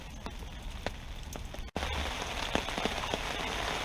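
Heavy rain pours down during a pike fishing session outdoors, a dense steady hiss with scattered close drops pattering on a surface, briefly cut then returning louder.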